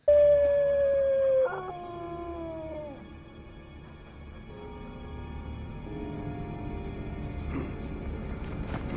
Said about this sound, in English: We slay the wolf people who literally will howl, whimper, and bark at you while you fight them